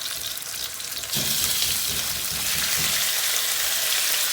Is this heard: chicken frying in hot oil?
yes